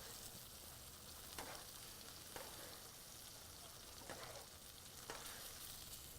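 Chicken browning in a pan for chicken piccata, a faint steady sizzle with soft periodic stirring scrapes about once a second, no talking.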